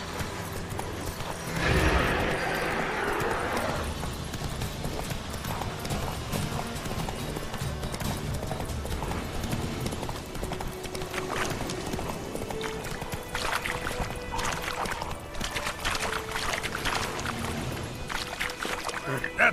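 Roach, a horse in The Witcher 3, trots with rhythmic hoof clip-clops that run throughout. A brief splashing burst comes early on, and a voice talks over the hooves.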